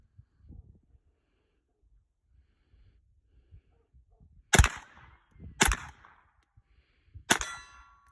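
Three sharp Chiappa M1-22 rifle shots a second or two apart, each bullet ricocheting off granite into a thin ringing whine, over quiet outdoor background with faint low thumps.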